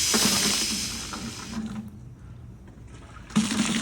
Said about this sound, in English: Gotta fill this bad boy with water